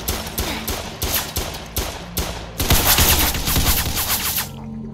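Rapid bursts of automatic gunfire in the online game SCP: Roleplay, several loud clustered volleys with short gaps, then a longer sustained barrage before cutting to silence.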